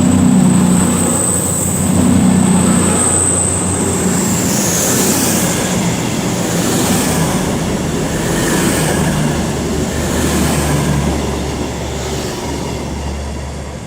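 A train rolls through Nuneaton station on the West Coast Main Line, a loud rumbling wheel-and-rail roar with a high squeal near the start that fades into rhythmic clatter as it passes, with no talking.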